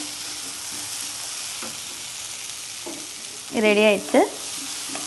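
Rajma sandwich stuffing sautéing in a pan, a steady soft sizzle running throughout, with someone speaking briefly over it near the end.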